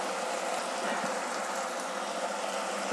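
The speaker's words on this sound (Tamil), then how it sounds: "ஜாராக கொஞ்சம் தண்ணி விட்டுக்கிறேன்" Water poured into a mixer grinder jar to loosen ground kurma paste, a steady splashing pour heard close up and alone for the whole stretch, ending with a brief clunk.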